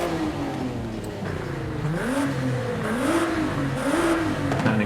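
Nissan Z exhaust revving in Forza Horizon 5, the engine note rising and falling in repeated swells with a raspy whir, fairly loud and steady, no talking.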